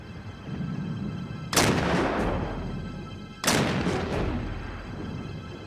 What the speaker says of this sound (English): Shot after shot hit the Virginia's sloping sides and glanced off